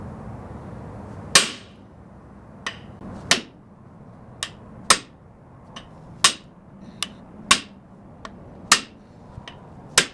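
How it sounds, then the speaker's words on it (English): Sharp metal hammer blows on a cone during a rebuild of a 1948 Chevy inline-six engine: about a dozen close, crisp strikes at uneven intervals over a quiet workshop hum. "You always stop and make sure your cone hasn't worked its way out because you'll be hammering it crooked."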